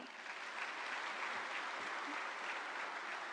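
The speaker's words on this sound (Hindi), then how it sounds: "एक बार जोरदार तालियां।" Audience at a government event bursts into sustained applause, a dense even wash of many hands clapping together at a distance, steady throughout with no speech over it.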